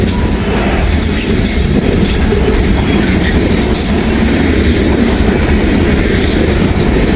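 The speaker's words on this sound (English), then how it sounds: "It's a heavy train." A heavy Norfolk Southern freight train rumbles past close by, a loud continuous roar of wheels on rails with rhythmic clacking and faint squeals throughout.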